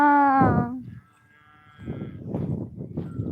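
A young calf calls out with one long, loud, wavering bleat, followed by rough lower vocal sounds and some background noise.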